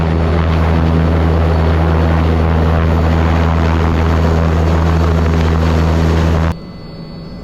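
A small propeller aircraft engine runs loud and steady with a strong droning hum before takeoff, close up and alone, then cuts off abruptly near the end.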